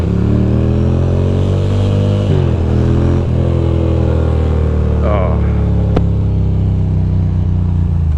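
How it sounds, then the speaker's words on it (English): A motorcycle engine drones loudly while riding, its pitch rising and falling through gear changes and revs, with wind rumble throughout. "I don't rev match because I like the way my bike sounds."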